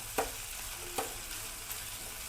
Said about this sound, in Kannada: ಚೆನ್ನಾಗಿ ಈರುಳ್ಳಿನ ಫ್ರೈ ಮಾಡ್ಕೋಬೇಕು